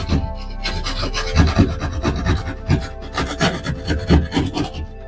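A drywall edge is shaved down with a rasp in a steady series of close, rhythmic rubbing strokes, each a dry gritty scrape, with no talking.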